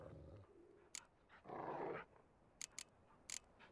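Dogs in The Witcher 3 give a brief growl and snarl, with a mid-clip burst of louder growling and sharp clicks scattered through otherwise quiet ambience.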